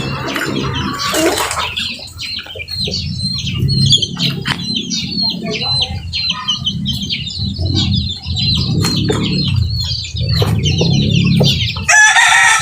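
Chickens clucking and a rooster crowing nearby, with busy overlapping bird calls and some wing flapping, loud and continuous.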